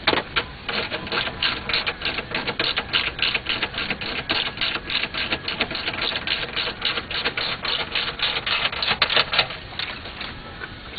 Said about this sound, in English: Here's my ratchet.